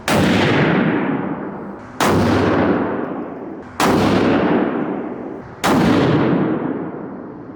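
Four heavy, sharp reports from a Creedmoor hunting rifle, evenly spaced about two seconds apart. Each is very loud and close, with a long echoing tail that decays before the next shot.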